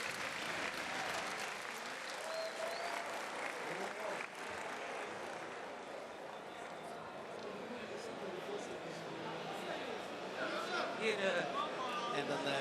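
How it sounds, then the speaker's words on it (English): Dense, sustained applause from an arena crowd for two fighters at a combat-sports bout, steady and loud for the whole stretch, with a commentator's voice faintly underneath. "let's start with a huge applause for both fighters"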